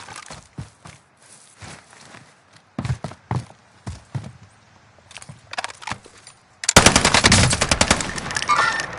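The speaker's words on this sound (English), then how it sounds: "We're taking fire." Rapid machine gun bursts in a video game battle, starting as scattered close shots and swelling into a loud, sustained volley near the end.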